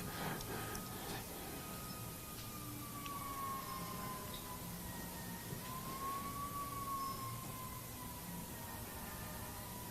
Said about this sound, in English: These sirens are giving emphasis to whatever I'm saying.